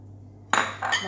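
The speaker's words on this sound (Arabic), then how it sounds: "غادي نحرك الكل جيدا وغادي نمشي نحمره فوق البوطه" A utensil scrapes and clinks against a pot while a nut and kataifi pastry mixture is stirred and browned on the stove, two short close bursts after near silence.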